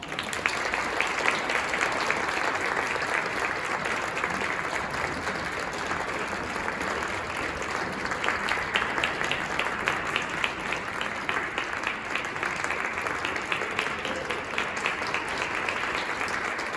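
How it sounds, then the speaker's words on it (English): A concert-hall audience gives a long, sustained round of applause to welcome six harpists onto stage at a Pittsburgh Symphony Orchestra pre-concert talk, the many hands making a dense, even clatter with individual claps standing out, full and close. "why don't we invite them onto stage with a big round of applause"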